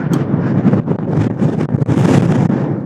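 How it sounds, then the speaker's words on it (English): Strong gusting wind buffets the microphone at Horseshoe Bend, a loud, continuous roar that surges and dips throughout with no speech over it. "Super windy."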